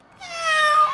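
A man imitates a cat's meow with one drawn-out, rising and slightly wavering mew, loud and close, with no other sound around it.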